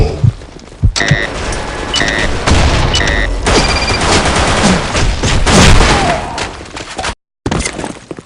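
Grenade explosions and dense gunfire in the video game Transformice, with rapid bursts of shots and loud booms packed tightly over several seconds, a brief dropout near the end before more firing.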